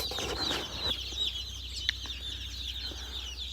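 Chicks peep in a brooder, a busy chorus of high thin calls with occasional sharper chirps, fairly close over a low steady background rumble.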